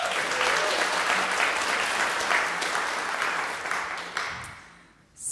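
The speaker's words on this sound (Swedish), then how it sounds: "Nisse, en applåd till honom." Concert audience at a graduation recital giving a round of applause, a full, loud wave of many hands clapping that holds steady, then gradually thins and drops off near the end before a last brief swell.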